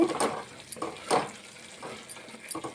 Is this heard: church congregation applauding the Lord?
no